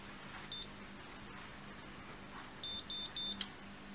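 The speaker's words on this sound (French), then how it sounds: "Donc comme toujours on attend les 3 bips successifs." Three short electronic beeps from a Babyliss Pro Miracurl curling iron sound in quick succession near the end, after one earlier beep, against a faint quiet background.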